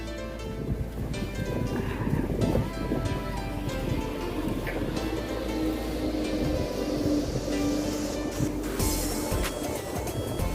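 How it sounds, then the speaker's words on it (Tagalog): Strong wind gusting outdoors past a school entrance, a steady loud rushing roar that fills the clip with continuous buffeting noise and no talk. "Ay, ang lakas ng hangin guys."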